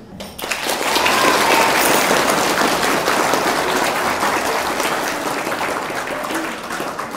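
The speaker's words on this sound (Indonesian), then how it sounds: "Tepuk tangan." Applause from an audience at a Hari Santri commemoration at an Islamic boarding school starts sharply and holds as a loud, even roar of clapping that eases slightly toward the end.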